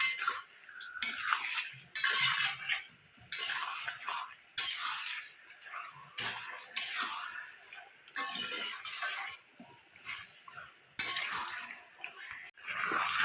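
A spoon repeatedly scrapes and stirs chicken sautéing in a pan for chicken kosha, in rhythmic bursts of clatter about once a second with brief quiet gaps between strokes.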